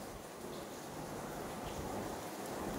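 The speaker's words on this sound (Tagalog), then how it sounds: "Ito na po tayo, bumabanat na naman po ang ulan." Heavy rain pours down steadily in an area recently hit by flooding, a dense, even wash of drops with no pauses and no voices.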